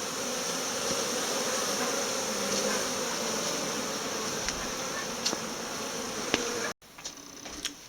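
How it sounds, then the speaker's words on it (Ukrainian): Honeybees fly around their hives on a fine day, a dense, continuous buzz of many insects close by, steady and alone, with a short break near the end. "бджілки літають, носять пилок"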